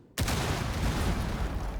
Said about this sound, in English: There's a lot of explosions happening all of a sudden.